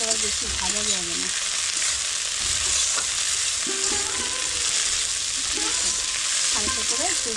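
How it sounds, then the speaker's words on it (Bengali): Spinach-type greens and coriander leaves fry in a pan with onions, giving a steady, close sizzle all the way through, with brief spoken words and faint tonal sounds over it. "হালকা করে একটু ভেজে নিলাম"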